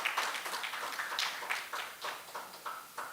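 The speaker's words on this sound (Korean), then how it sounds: "박수로 환영해 주시면 감사하겠습니다." Audience at a health-walking seminar claps to welcome guests, a spread of hands applauding in uneven bursts, fairly quiet and distant, with no talking over it.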